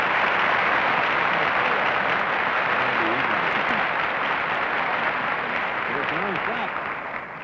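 Studio audience applauding on a 1959 live television game show, a dense steady wash of clapping filling the whole stretch at fairly loud level, with some voices mixed in and fading slightly at the end.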